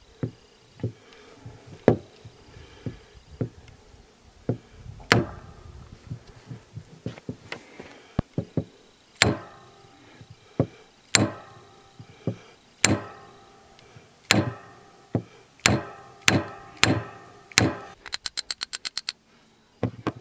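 A hammer strikes a rock again and again outdoors in the badlands, sharp knocks coming irregularly at first, then steadier and faster, ending in a rapid flurry of blows.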